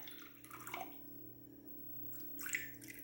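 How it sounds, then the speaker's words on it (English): Water poured into separate containers for paper tie-dye, heard as light splashing and trickling in short bursts near the start and again toward the end, quiet and close, with a low steady hum underneath. "I'm going to take water and pour into each of the containers"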